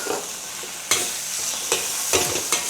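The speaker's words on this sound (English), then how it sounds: "Switch it off and add the garlic slices" Garlic slices sizzle steadily in a wok with Chinese broccoli, Cantonese-style gai lan with garlic oil, while sharp scraping stir strokes cut in at intervals, close and loud, with no talking.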